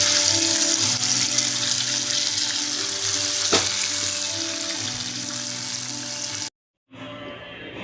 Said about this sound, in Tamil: இப்போ நெய் ஊற்றி தாளித்து ஊற்றிடலாம்.